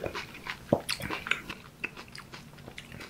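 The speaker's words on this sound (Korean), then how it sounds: "일단 순두부 열라면부터 먼저 먹어볼게요." Someone eats spicy Sundubu Yeol ramen up close, with soft slurps, bites and chewing in a quiet room and no talking.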